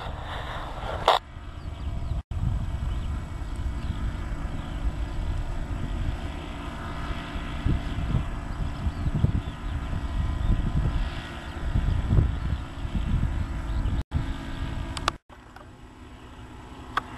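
A paramotor engine throttled back to a trickle of gas in flight over the Val d'Oise: a steady, low droning hum mixed with wind rush, continuous and moderately loud, with no voices.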